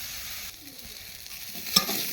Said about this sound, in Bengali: একটু লাল করে ভেজে নেব আলুটা